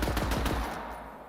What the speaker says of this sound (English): we have a Vladoff pistol. And if we just fire regularly, we just fire bullets